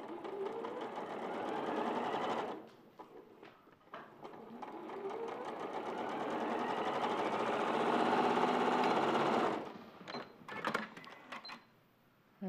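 A sewing machine runs in steady bursts while stitching a seam below the snout of a stuffed toy's head, loud and continuous with brief pauses and stops near the end.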